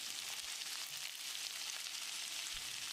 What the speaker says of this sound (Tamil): அளவான தீயிலேயே ஒரு 2 நிமிஷம் கத்திரிக்காயை எண்ணெயிலேயே வதக்கணும்